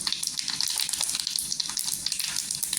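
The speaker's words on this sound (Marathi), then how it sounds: "तेल गरम झाल्यानंतर इथे मोहरी टाकणार आहे, अर्धी चम्मच छान अशी तरतरली पाहिजे." Mustard seeds and cumin sizzle and crackle steadily in hot oil in a pan, a close, dense spattering with no talking.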